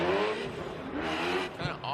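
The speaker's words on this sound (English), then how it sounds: "You can hear the exhaust note just going off and on like a switch." A supercharged V8 drift car on Falcon tires, its exhaust note cutting off and on like a switch at a Formula Drift qualifying event. A loud, steady roar with wavering pitch dips briefly before surging back. Commentary runs over it.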